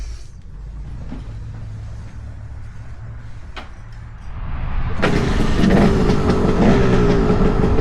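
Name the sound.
KTM 300 dirt bike engine started and running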